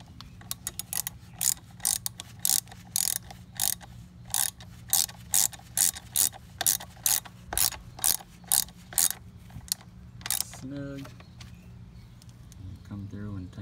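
Ratchet with a 12 mm socket tightening the rear brake bolts on a Honda 400ex: a rapid run of evenly spaced clicking strokes, close and crisp, ending in a few brief pauses and softer handling noises.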